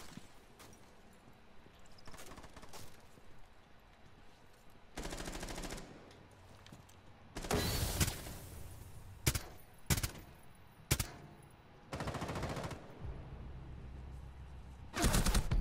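Gunfire in the tactical shooter Rainbow Six Siege: scattered single shots and several loud, close bursts of automatic fire stand out over a low game-ambience bed, with the bursts clustered later in the stretch.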